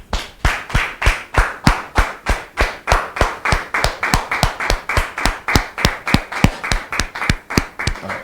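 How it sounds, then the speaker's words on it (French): An audience claps in a steady, rhythmic beat to welcome a guest, M. Guy Tambert, onto a show: sharp, evenly spaced claps, loud and close, running without pause and with no talk over them. "Sous vos applaudissements, s'il vous plaît."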